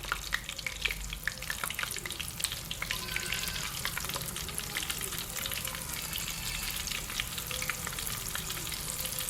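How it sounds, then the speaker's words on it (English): Chicken fries in hot oil with a dense, continuous crackling sizzle, loud and near, with brief stirring and no talk. "into the oil. and then allow it to fry"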